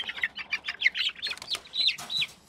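Several chickens, including red, black and white birds in a large cage, cluck and chatter continuously at close range, with bright overlapping calls and no talk.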